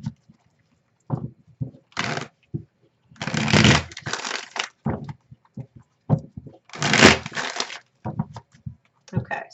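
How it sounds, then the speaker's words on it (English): Tarot cards for a Celtic Cross reading are shuffled in several separate bursts, each a short riffling rush close to the ear, with quiet gaps between and no talking. "Let's give it a couple shuffles here"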